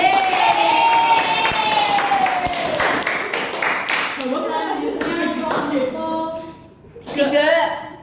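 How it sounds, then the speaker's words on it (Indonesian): Classroom applause for a student: a group claps in a quick, uneven patter while a teacher and pupils talk over it, then the clapping thins out before a final short burst. "kasih tepuk tangan"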